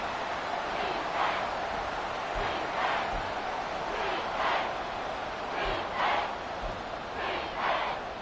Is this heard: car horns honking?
no